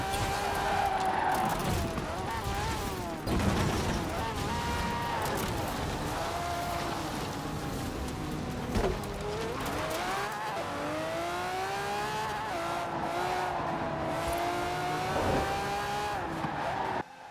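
A powerful sports car engine in Forza Horizon 4 revs and climbs through gears with rising, falling pitch, tires squealing along the way, loud and continuous.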